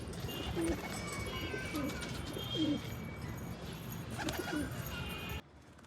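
Pigeons coo in soft, low, rolling phrases repeated several times over a steady outdoor background hiss, fairly close, before the sound cuts away near the end.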